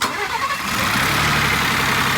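A rebuilt, previously wrecked 2021 Ford Bronco engine catches and settles into a loud, steady idle close by, with no talking over it.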